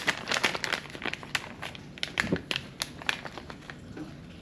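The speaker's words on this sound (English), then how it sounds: "So at the top, I'm just gonna rip off the top section." Plastic breastmilk storage bag crinkling and tearing as its top section is ripped off, a close run of irregular crackles and rustles with a few sharper tears.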